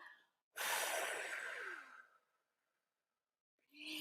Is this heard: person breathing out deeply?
yes